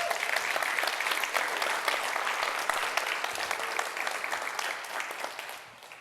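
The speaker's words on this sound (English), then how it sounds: "Y'all clap it up for them." Audience at an opening keynote bursts into sustained applause, dense and steady for about six seconds before tapering off near the end, with no voices over it.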